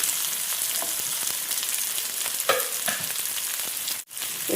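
Onions frying in a pan for a broccoli masala curry give a steady, loud sizzle with a few faint stirring scrapes and a brief dip near the end, with no voices.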